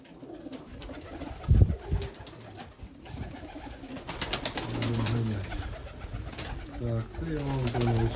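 A male and female pigeon cooing in a backyard loft, repeated soft rolling coos close by, with a brief knock early and faint background noise throughout.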